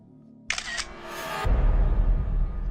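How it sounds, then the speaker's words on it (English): A sharp digital camera shutter click with a brief mechanical whir, followed by a louder, rumbling low noise that lingers to the end. "The sound of a digital camera shutter, accompanied with a blindingly bright flash coming from an adjacent room"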